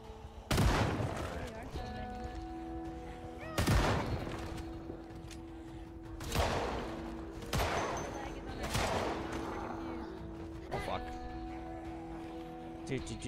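Gunshots ring out in Project Zomboid as zombies are shot, a handful of loud bursts spaced a few seconds apart over steady game ambience, with a voice talking throughout.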